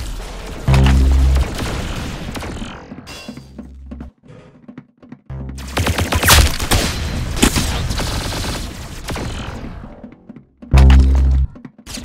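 Gunfire and impact effects from the Roblox game Arsenal come in loud, dense bursts and volleys, separated by brief quieter gaps, with heavy thumping hits at the start and end.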